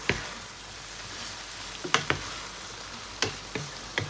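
Mama instant noodles being stir-fried in a pan, with a steady sizzle and a few sharp clicks of the utensil against the pan, close and without talk.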